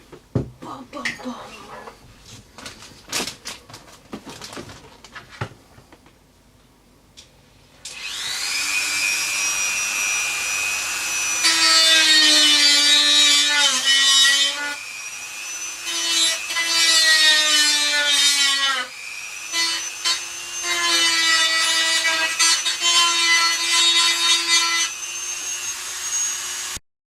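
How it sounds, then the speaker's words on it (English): A Dremel rotary tool whines as it cuts during a home PC upgrade, the high steady pitch rising and dipping over several long passes after some earlier knocking and handling sounds. "I'm going to have to pull out the Dremel"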